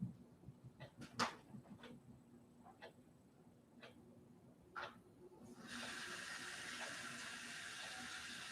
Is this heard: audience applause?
no